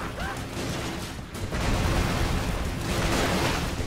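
Constant enemy gunfire and explosions rattle through a hard-mode battle in the Broforce video game, a dense, busy wash of shots that swells louder halfway through and keeps going without a break.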